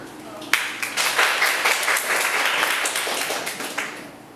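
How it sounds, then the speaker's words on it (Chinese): Audience at a student forum giving a round of applause to welcome three speakers, dense clapping that starts sharply, holds steady for a few seconds and tapers off. "那我们就掌声欢迎一下今天的语坛三位语坛的人。"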